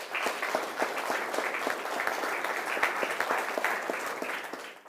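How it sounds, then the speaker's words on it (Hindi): Audience applause welcoming a biology expert panelist at a school panel discussion on higher education, a steady dense wash of many hands clapping throughout, moderately loud and without talk. "तो आइए इनका भी स्वागत कीजिए जोरदार तालियों से"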